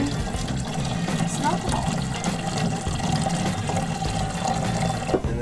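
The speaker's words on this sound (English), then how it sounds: "we're gonna pour it into our still here, and we're gonna start distilling" Fermented mash being poured into a reflux still aboard a sailboat, a steady splashing, gurgling stream of liquid running throughout under a voice.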